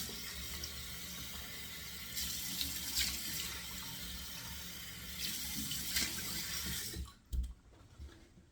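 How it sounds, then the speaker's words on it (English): Cold water runs steadily from a tap into a sink, a continuous close rush that cuts off near the end, followed by a brief splash. "But running the cold water, so yeah, 2 splashes of cold water."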